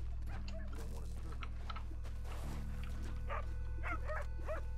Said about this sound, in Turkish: Aa bak, köpek sesleri falan.